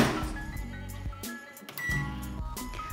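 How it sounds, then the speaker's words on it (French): A microwave oven running with a bowl of mochi dough inside, giving a steady hum that is broken by a short pause, with a few clinks and beeps around it, close by and with no talking. "On va mettre le bol une première fois au micro-ondes pendant 30 secondes."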